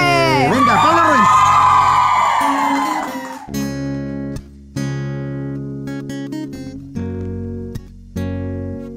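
A live concert crowd at an acoustic performance cheers and screams loudly for a few seconds, then the noise breaks off into quieter stretches with brief bursts of music and crowd sound.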